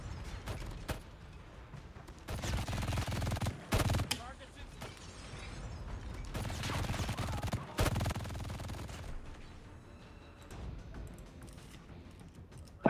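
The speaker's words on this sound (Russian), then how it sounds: "Этот пулемет прямо решает." Machine gun fire in Call of Duty Mobile crackles in several loud sustained bursts separated by short pauses, set against game ambience and intermittent talk.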